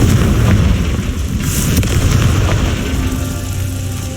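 Confringo blasting spell exploding in Hogwarts Legacy, a loud rumbling boom with crackling debris that fills the whole moment, a sharper burst standing out partway through.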